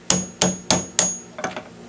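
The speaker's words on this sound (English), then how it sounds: "put it on that bearing right there, and hammer it out" Four sharp, evenly spaced hammer blows knocking a bearing off a motor shaft, close and loud with metallic ring, followed by lighter tapping.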